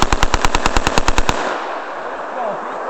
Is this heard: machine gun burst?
yes